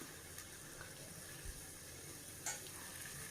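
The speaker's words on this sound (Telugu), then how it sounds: "పచ్చిమిర్చి వేసిన తర్వాత కొంచెం టమాటోలు ఇట్లా వేసేసుకొని కొంచెం కలుపుకోవాలండి" Tomatoes and green chillies sizzle softly in a pan while being stirred, a faint, even hiss with a couple of light scrapes.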